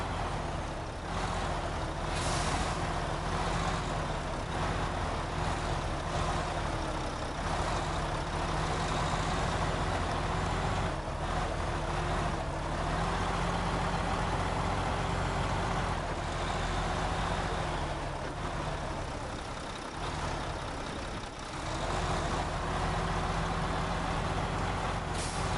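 A heavy, long truck in the game Snowrunner drives with a loud, steady diesel engine drone that continues throughout, with brief hissing bursts like air brakes.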